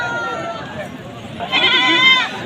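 A goat bleats loudly and close by in a wavering, drawn-out call, following a softer bleat, with a person talking briefly around it, at the Tebaria livestock market in Natore, Bangladesh.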